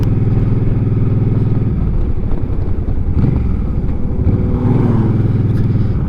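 Harley-Davidson 800 motorcycle engine on a ride around town, a loud close rumbling exhaust that rises and dips with throttle changes, a low throbbing pulse dominating throughout.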